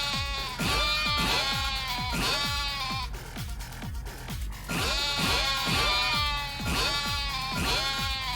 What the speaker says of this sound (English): I guess they are making sheep noises